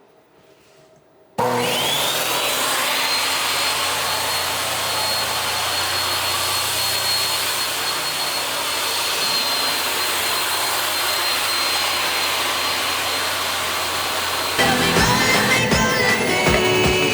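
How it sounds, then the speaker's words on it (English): A table saw powered by a DYNESS 12V battery starts up abruptly and runs with a loud, steady whining roar that holds for the whole stretch, with a slight shift near the end. "let's turn on the table saw first"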